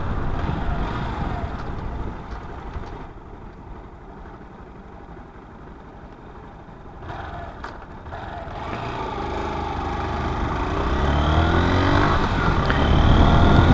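A Honda Bros 160 motorcycle engine with a strange noise runs steadily, its mid-pitched drone idling close by and then rising in revs toward the end.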